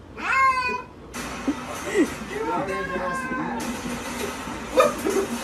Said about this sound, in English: apparently now we're hatching kittens